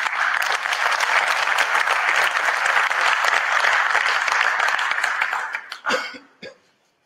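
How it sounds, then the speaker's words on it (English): Audience applause at a conference: sustained dense clapping from a large crowd for several seconds, then tapering off with a few scattered claps and a cough. "let's clap for him again"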